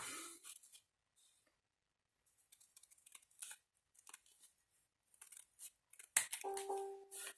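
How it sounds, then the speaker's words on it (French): Scissors cut paper in a run of short, crisp snips and slicing swishes, close and fairly quiet, separated by brief pauses, ending with a sharper rustle. "Je pense que je vais le faire au ciseau."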